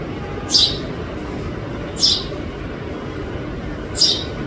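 A bird calls loudly while coming to eat from a bowl of food set out for it, three sharp chirps spaced about two seconds apart over a steady background hiss.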